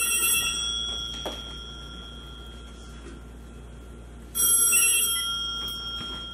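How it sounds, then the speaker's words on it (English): A telephone rings in two bursts of bright electronic bell tones, separated by a quieter pause, heard clearly with no talking. "Well, my phone's ringing again."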